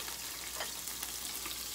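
Sliced carrots, chickpeas, garlic and ginger hit a hot pan for ramen soup, giving a steady, close hiss of sizzling oil with faint scraping stirs and no voices.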